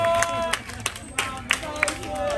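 A crowd at a rap battle final in Magdalena cheers and claps continuously, dense hubbub with scattered louder claps and shouts throughout, a voice talking over the noise.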